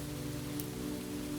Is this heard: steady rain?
yes